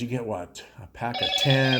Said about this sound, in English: Excuse my other phone over there going off.